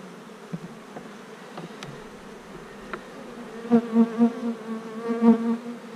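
Bees buzz in an opened hive, a low droning hum close by that swells louder and more dense in the second half, with a few faint clicks early on.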